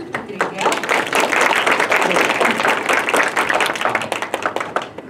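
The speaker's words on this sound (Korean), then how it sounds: "여러분 큰 박수 부탁드릴게요." Audience claps to welcome a speaker onto a stage at a talk event, a dense burst of applause that swells quickly, holds, then thins into scattered claps at the end.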